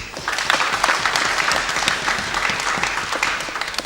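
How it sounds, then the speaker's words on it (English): Dense, steady applause from a debate audience fills the whole stretch, many hands clapping at an even level without a break or a clear peak. "Another round of applause,"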